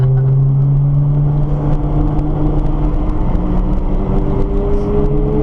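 A Nissan GT-R drives on a race track, its engine droning loudly and continuously from inside the car, with the tone gradually rising as it accelerates.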